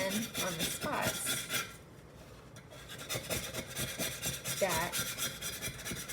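Cured epoxy coating is scraped off a tumbler after an acetone wipe, with short gritty rasping strokes, a brief pause midway, then more scraping close by. A few quiet spoken words come in briefly.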